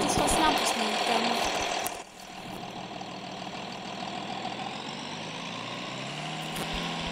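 A tractor engine in the Farming Simulator 23 video game runs steadily, holding a constant mid-low drone with a brief dip near two seconds, and a voice talks over it throughout.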